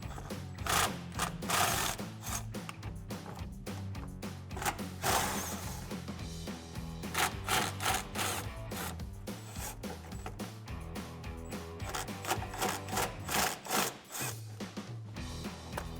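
An electric impact tool with a swivel socket rattles in rapid bursts, removing bolts under the front bumper air dam of a 2017-2022 Ford F-250, close and moderately loud with brief pauses between runs.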